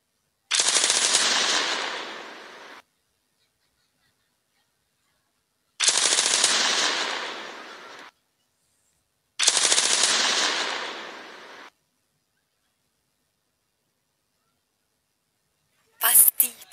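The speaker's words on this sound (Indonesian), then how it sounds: "Pasti dengan peluru ini, si Pitung akan mati." Machine gun sound effect played during a school stage play: three long, loud bursts of rapid fire separated by silence, then a short crackle at the end.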